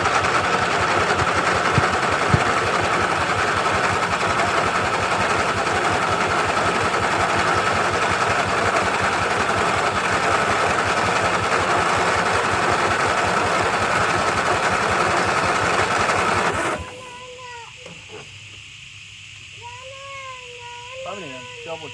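An old John Deere tractor engine that has sat unused for a couple of weeks runs with a loud, steady, rapid chugging close by. After about seventeen seconds it cuts out abruptly, leaving only quieter scattered sounds.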